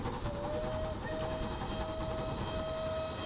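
A steam locomotive in the Train Simulator Classic game on Myatt's Valley Railway sounds one long, steady whistle over a constant rumbling rolling noise, with no voices during it.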